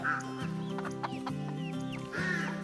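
A bantam hen on a homestead clucks in a series of short, close, repeated calls, heard alone without talk.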